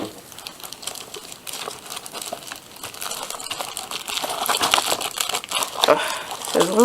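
A plastic pouch from a wireless keyboard unboxing is crinkled and torn open, with continuous close crackling and rustling that grows busier toward the end, while a person talks.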